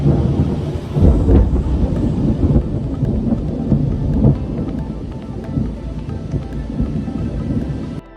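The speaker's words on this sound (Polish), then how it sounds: "grzmoty są przesadą. Są tak głośne, że aż uciekłem pod przystanek" Loud thunder rolls through a heavy rainstorm over marshland, deep booming rumbles rising and fading over steady rain hiss, close and powerful, with no voices.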